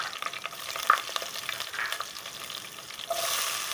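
Bay leaves, dried chilies and garlic frying in hot oil, a steady close sizzle with light stirring scrapes and a brief louder spatter, no talking.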